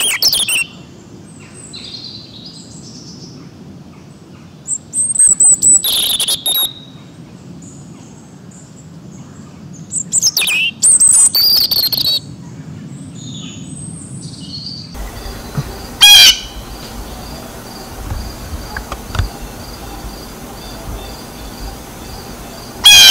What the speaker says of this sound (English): Children, I want you to first listen to the calls of the birds.